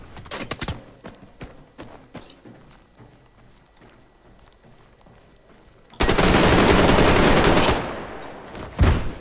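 Gunfire in the Survarium shooter game, scattered single shots early, then a loud sustained burst of rapid automatic fire that dominates the second half.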